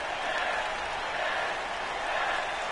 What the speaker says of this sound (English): The crowd wants it. You can just hear it in their voices.